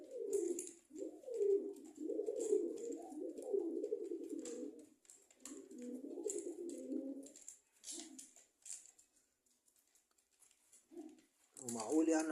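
A pigeon coos repeatedly near its nest with eggs inside a cage, soft rhythmic low calls coming in bursts with short pauses, close by and fairly clear, with faint tapping and rustling in the background.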